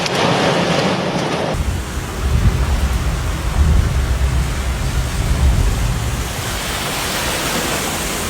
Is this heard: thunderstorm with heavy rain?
yes